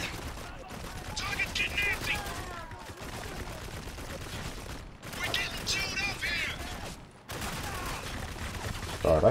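Gunfire in the video game Spec Ops: The Line, dense bursts of shots and rattling mechanisms running nearly nonstop, broken by a few brief pauses, loud and close with a voice talking over parts of it.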